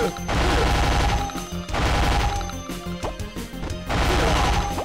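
Loud bursts of gunfire and crashing impacts from the PlayStation 1 shooter CT Special Forces, with dense volleys recurring in waves across the clip and no talk over them.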